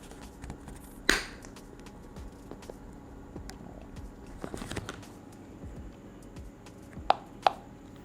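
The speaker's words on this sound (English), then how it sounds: "The huge cracking sound and disfiguration near the rockers does not look like a promising start" An Infinix Hot 11 smartphone gives a sharp crack early during a bend test, followed later by a couple of quieter snapping clicks and creaks over low background noise.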